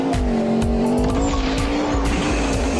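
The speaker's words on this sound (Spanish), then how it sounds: "Afortunadamente logré frenar a tiempo" Racing car braking hard in the mobile driving game Extreme Car Stunt Master 3D, a loud sustained tire squeal riding over a roaring engine, continuous and close for nearly three seconds.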